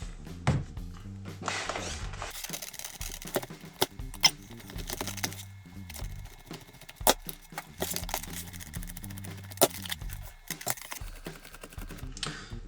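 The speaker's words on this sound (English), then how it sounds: "And we've got a few different screws to undo." Small screws being undone on the underside of a Parrot Disco drone during camera replacement, giving quiet irregular clicks, scrapes and light handling taps close by, with no talking.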